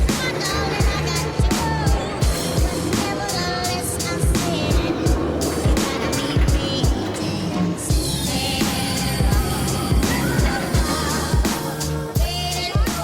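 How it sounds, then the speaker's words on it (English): Loud, continuous rumble and rattle of the Wildcats Revenge hybrid wooden-steel roller coaster at Hersheypark, heard from the back row during a full ride, with steady track roar and clattering throughout and no clear talk. "Time to ride my new favorite coaster at Hersheypark, Wildcats Revenge."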